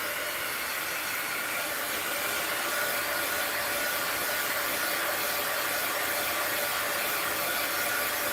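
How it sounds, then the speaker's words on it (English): A heat gun blows a steady, even roar of hot air across a mixed-media steampunk art journal page, holding at a constant level throughout with no talking. "Heat gun alert!"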